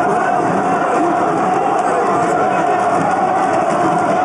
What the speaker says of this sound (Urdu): پی ٹی آئی اراکین کے شور شرابے میں حکومتی اراکین گو عمران گو کے نعرے لگاتے رہے